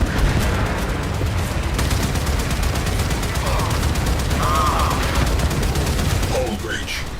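Torpedo launches and rapid gunfire from a space battle against a capital ship in Warframe, a steady barrage of quick repeated shots with rumbling blasts, while a synthetic voice makes brief announcements.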